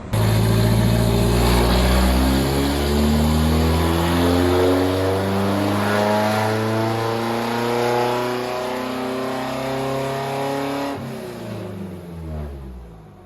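A Race Terra diesel engine revs hard on a dyno, rising in pitch steadily over roughly ten seconds before dropping off sharply, a loud continuous roar with no voices over it.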